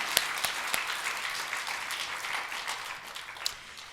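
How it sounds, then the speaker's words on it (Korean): Congregation applause at a Sunday church service swells as a dense wash of clapping with a few sharper individual claps standing out, then gradually fades toward the end. "오늘 이 축복을 주신 하나님께 영광의 박수를 올려드립니다"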